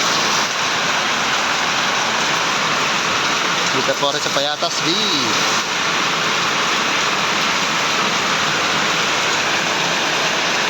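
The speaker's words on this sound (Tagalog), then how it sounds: "Ang lakas ng ulan." Heavy rain pours steadily in Payatas B, Quezon City, a dense, loud hiss that lasts throughout, with someone talking briefly over it.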